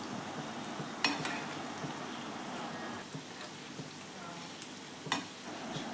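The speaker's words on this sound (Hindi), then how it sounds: "अलट पलट करके हम दोनों तरफ से इसे अच्छी तरह से फ्राई करेंगे।" Chicken potato donuts fry in oil with a soft, continuous bubbling sizzle and occasional scraping clicks as they are turned.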